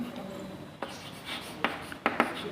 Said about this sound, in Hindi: यहां लिख देंगे हम